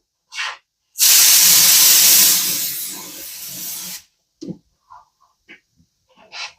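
Spray gun laying a coat onto a fiberglass interior rear panel: one loud continuous hissing burst of about three seconds, tapering slightly, with short clicks and handling noises before and after.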